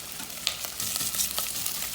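Prawns and 'nduja sizzle in a pan over high heat, a steady close hiss with faint crackles and a light clink or stir partway through.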